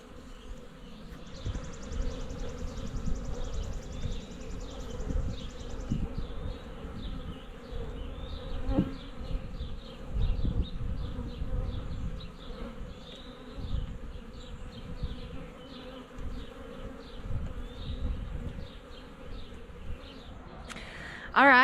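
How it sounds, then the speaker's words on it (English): A swarm of bees flies around an outdoor bee box, a continuous buzzing drone with individual insects passing close by. It stays moderately quiet and even throughout, with no voices. "I am down here at the bee box. You've seen some of the bees."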